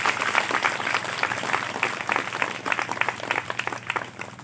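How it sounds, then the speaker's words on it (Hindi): A congregation at a Hindi church sermon claps for Jesus Christ, producing steady, dense applause from many hands that fills the room without a break. "ताली बजाते हैं सब यीशु मसीह के लिए।"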